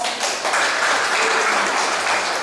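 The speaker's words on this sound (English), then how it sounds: "Round of applause." Crowd at a Labour Party political rally in Ondo State, Nigeria, applauds loudly, a dense sustained wash of clapping with a few louder bursts.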